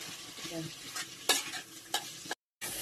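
Chicken and potato being stirred and sautéed in a spiced pan for chicken cutlets, close-up scraping strokes of a spoon against the pan over a soft continuous sizzle, with a brief silent gap near the end.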